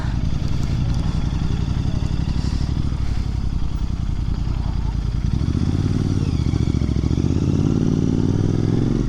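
A wet motorcycle on a rainy ride gives a loud, steady engine drone that runs close and unbroken throughout, with a voice talking over it.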